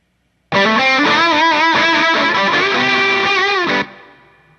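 Distorted electric guitar riff drenched in a lush hall reverb from Logic Pro X's Silver Verb, loud and sustained for about three seconds before the reverb tail fades out.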